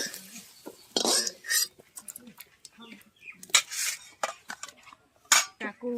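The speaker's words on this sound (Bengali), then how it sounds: "এবার আমি আলুটাকে কড়া থেকে তুলে নেব।" A metal utensil scrapes and clinks against a kadai wok as fried potatoes are lifted out, giving short, uneven knocks close by between bits of speech.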